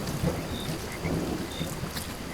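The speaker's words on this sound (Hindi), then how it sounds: "बिजली चमक रही थी और बादल गरज रहे थे।" A thunderstorm on a stormy night sends steady rain hissing over a surface while low thunder rumbles beneath it, a dense and continuous wash with no voices.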